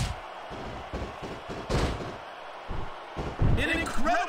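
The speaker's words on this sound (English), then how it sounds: "An incredible shot from that air feather pillow." A feather pillow strikes in the wrestling game WWE SmackDown! vs Raw 2006, with a series of dull thumps and slams at an uneven rhythm, under game crowd noise.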